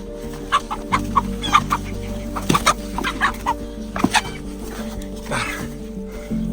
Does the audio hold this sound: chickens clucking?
yes